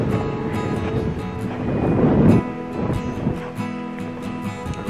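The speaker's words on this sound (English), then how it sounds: "very windy up here." Strong wind atop a mountaintop fortress in the Rhodope Mountains buffets the microphone in a continuous roar, swelling into a louder gust midway before easing back.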